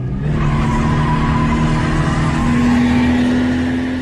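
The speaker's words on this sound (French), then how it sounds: "Quel est le secret pour qu'elle drift comme ça?" A car drifting from a standing start, its engine roaring close by while the tires skid and squeal continuously, with a steady pitch rising slightly toward the end.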